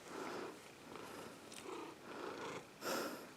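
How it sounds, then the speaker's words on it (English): A house cat purrs close by in a quiet outdoor spot, a soft steady rumble that swells and fades in slow cycles, with a brief louder snuffle near the end. "Obligatory cat footage."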